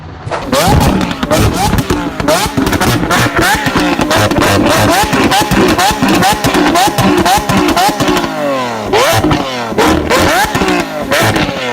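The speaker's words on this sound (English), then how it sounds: "Versus motorcycle sound." Motorcycle engine revving hard and loud, rising and falling in repeated throttle bursts with crackling exhaust pops, close up and continuous.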